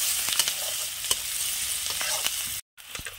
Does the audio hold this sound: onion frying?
yes